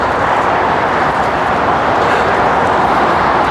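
A steady, loud roar of heavy traffic on the M1 motorway in Derbyshire rushes past without pause, a continuous broadband wash of motorway noise.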